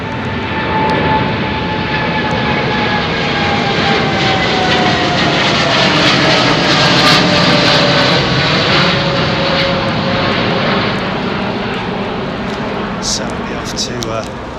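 Jet engines of an Air India airliner roar loud and steady at London Heathrow Airport under a low cloud base, a continuous broadband rumble with a drifting whine that never lets up.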